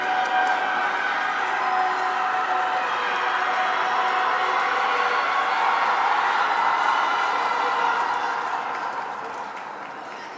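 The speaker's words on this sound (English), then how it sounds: "Lots of enthusiasm from the crowd here." A spectator crowd at a long track speed skating championship keeps up steady cheering and applause for about ten seconds, loud and sustained, before tapering slightly near the end.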